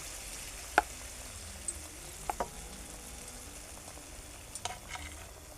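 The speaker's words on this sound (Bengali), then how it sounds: "এটা আমি তেলের উপরে ছেড়ে দিয়ে ভালোভাবে ভেজে নেব।" Pitha (dudh gokul, made with semolina) frying in hot oil, a soft steady sizzle with a few sharp pops and spatters scattered across it, faint and alone with no talk.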